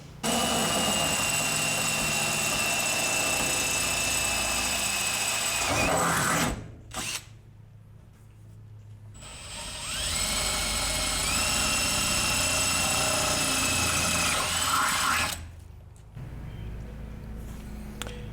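A power drill whines loudly in long continuous bursts, pausing briefly between runs, with a steady high motor pitch close by, drilling holes in VW Beetle door trim.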